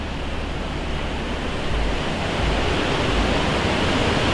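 River water rushing beneath the turbines of a hydroelectric building, a loud, dense, continuous roar like a waterfall, filling the whole stretch with no voices.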